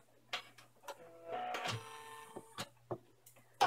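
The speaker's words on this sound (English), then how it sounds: "I just finished stitching the satin stitches around all the little windows" An embroidery machine satin-stitches around small window pieces on an in-the-hoop castle bag, making a mechanical whir with sharp, irregular clicks and ticks, close and clear with no talking.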